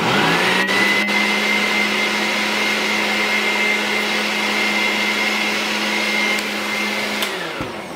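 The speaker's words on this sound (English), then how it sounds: "Put it on your blender." A blender purees water to clean its blades, a loud steady motor whine that runs evenly for several seconds, then spins down and stops near the end.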